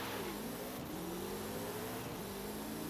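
A Koenigsegg engine in the Forza Horizon 5 racing game revs steadily, with a rising, buzzy tone that is loud and continuous and has no voices over it.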